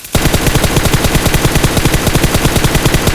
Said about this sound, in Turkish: Mermi adama dümdüz gidiyor arkadaşlar. Sıfır sekme gördüğünüz gibi